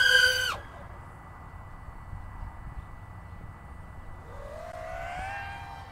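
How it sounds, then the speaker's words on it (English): An RC car at full throttle with an Inpower GTSv4 motor, a rising electric whine climbing in pitch near the end after a sharp high-pitched tone at the start. "I'm gonna get behind myself so you can hear them. I'm just gonna full throttle punch up."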